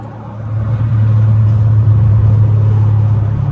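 A loud car engine drones steadily and close throughout while driving, a strong low rumble that stays level with no talk over it.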